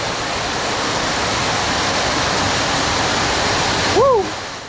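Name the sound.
heavy pouring rain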